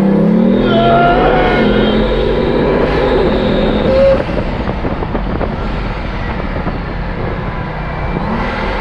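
A Bugatti's 1001-horsepower engine revs hard in first gear and climbs in pitch, loud and close, then settles into a rougher rumbling drone.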